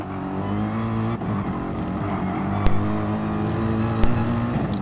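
Race car engine hums steadily in a sim racing game on the Dragon Trail Gardens circuit, a continuous close drone with a couple of sharp clicks, no talk.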